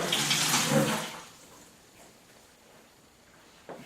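Cooled priming solution for homebrew pours into a plastic bottling bucket in a short, bright splashing rush lasting about a second, then fading to quiet handling.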